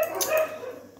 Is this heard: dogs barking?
yes